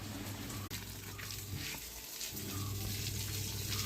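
Water pours steadily onto young okra and tomato seedlings in a home kitchen garden in Cheruthoni, Idukki, a continuous close gushing flow with a brief break near the start.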